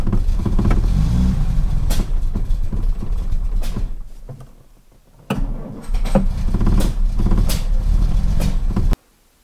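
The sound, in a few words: Jaguar Mk2 car running with rebuilt engine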